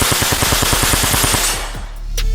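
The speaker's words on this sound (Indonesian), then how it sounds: "SMG Uzi mampu menembakkan peluru hingga 600 butir peluru per menit" An Uzi submachine gun fires a rapid full-auto burst at about 600 rounds per minute. The shots come loud and close in an even rattle for roughly a second and a half, then stop, leaving a ringing tail.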